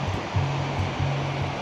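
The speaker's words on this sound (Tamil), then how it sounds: "கீழே அப்படியே தண்ணி ஓடுற மாதிரி." River water rushes along the bottom of a canyon in Kings Canyon, a dense, steady hiss of flowing water, loud and close, with a faint low hum running underneath.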